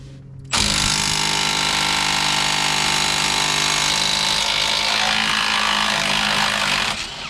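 A power tool loosening rusty, Loctite-coated 18 mm brake caliper bracket bolts on a Chevy Suburban, Tahoe, Yukon or Silverado, starting abruptly and running as one loud, continuous close hammering whine for about seven seconds before easing off.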